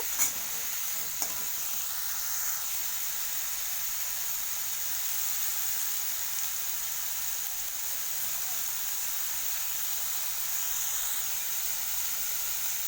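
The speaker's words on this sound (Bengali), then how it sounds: "যে বেগুন আর শিম কাঁচা লঙ্কা এগুলো আমি কেটে রেখেছি এগুলো আমি ফ্রাই করে নেবো" Cut eggplant, flat beans and green chilies fry in a pan with a soft, even hiss that holds steady throughout, with no one talking.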